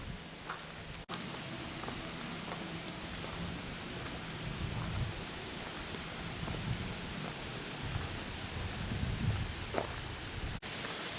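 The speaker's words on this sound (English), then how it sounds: "It's blowing all the water off the tree limbs up ahead." On a mountain trail, wind shakes water off the tree limbs, sending a steady rain-like patter of droplets through the leaves. The hiss is soft and continuous, with a few scattered louder drips and nobody speaking.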